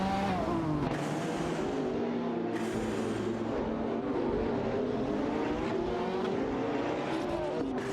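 Racing engines of a Radical RXV and a Lamborghini SC18 in an AI racing video game, a loud continuous roar whose pitch climbs and drops as the cars shift and pass.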